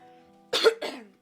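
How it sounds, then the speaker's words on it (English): Someone clears their throat: two short, rough, close rasps over a quiet background hum, with no talk. "Says that right as I clear my throat."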